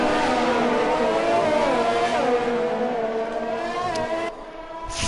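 Race cars in a racing video game scream past in a continuous layered engine whine, the pitch rising and shifting as they jostle, then a sudden drop and a sharp burst at the end.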